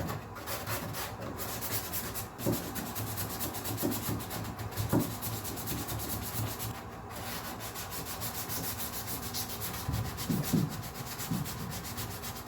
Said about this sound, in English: And I think I can finish up sanding now